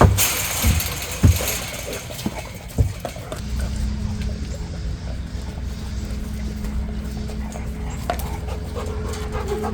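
Dogs panting in a yard during training, heavy breathing close by over a low engine-like hum, with a few louder knocks and thumps early on.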